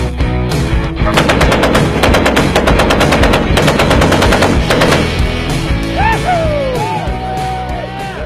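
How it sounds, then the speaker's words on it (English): Machine guns fire in rapid, loud bursts of rattling shots, then the firing stops and whoops and yells follow. "look at these machine guns. Everything here works, fully operational."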